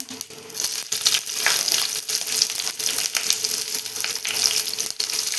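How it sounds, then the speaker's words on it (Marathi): Cumin, mustard seeds, curry leaves and green chillies hit hot oil in a kadai, a loud close sputtering sizzle with crackles and pops, continuous and dense for several seconds without talk. "कढईत आता थोडं जिरं घालूया थोडं मोहरी घालूया थोडा कढीपत्ता घालूया थोडी मिरची घालूया"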